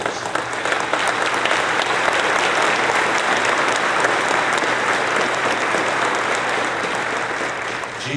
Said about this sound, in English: Gene Roddenberry is hearing that applause up there.